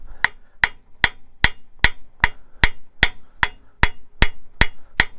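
Steady rhythmic hammer blows ring out on hot horseshoe steel, about a dozen sharp strikes evenly spaced, loud and close with no talking.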